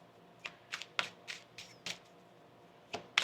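Tarot cards being shuffled by hand, a quiet sequence of about eight short riffling bursts and taps spaced irregularly over a few seconds, close and soft with no talk.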